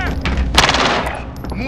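Rapid automatic gunfire crackles in a Call of Duty: Warzone match, a short loud burst peaking sharply before trailing into echoing shots.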